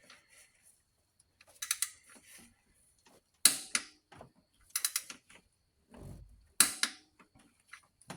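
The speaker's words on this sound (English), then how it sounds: "Now I'll give them all some clickages with the torque wrench." A torque wrench ratcheting and clicking while tightening 37 foot-pound bolts during a power steering pump replacement on a 2007 Cadillac Escalade, with close, sharp clicks and ratchet bursts separated by short quiet gaps.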